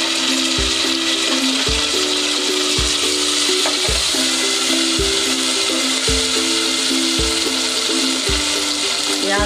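Tomato goes into a hot pan of matar paneer masala, sizzling loudly and steadily while a spoon scrapes and knocks the pan in a regular rhythm of dull thuds about once a second, close up and without speech.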